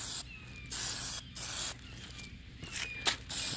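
Short bursts from an aerosol spray can hiss loudly and close up as a BMW 335i kidney grille is painted black, four or five blasts separated by brief pauses.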